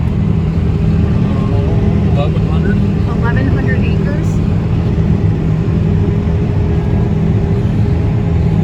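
A forage harvester chopping corn in the field, a loud, steady mechanical roar and drone throughout, with people talking over it.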